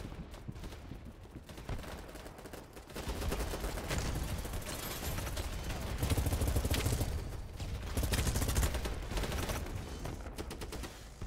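Rapid bursts of Honey Badger SMG fire in the chaotic 254-player shooter BattleBit Remastered, sustained and dense, with loud rattling volleys and surrounding gunfire from a crowded battlefield.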